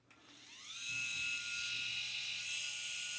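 A Pitbull Gold Pro electric head shaver spins up from a faint start into a steady, high-pitched whirring hum that holds evenly close to the listener.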